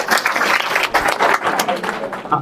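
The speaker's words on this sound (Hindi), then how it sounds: "क्लैप फॉर, ताली बजा रही है जरूरी।" A crowd claps for a girl at a motivational speaking event, producing a short, fairly loud burst of scattered clapping that mixes with talking.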